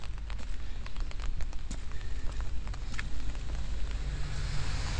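Steady rain falls outdoors at a hillside burial-mound park on a wet winter day, a dense, even hiss with low rumbling and scattered ticks and taps throughout, close and continuous with no talking.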